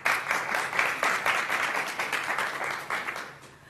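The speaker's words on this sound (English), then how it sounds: "So let's give her an applause." An audience at an expo talk applauds a speaker being introduced, a warm, moderately loud patter of many hands that holds steady and then tapers off toward the end.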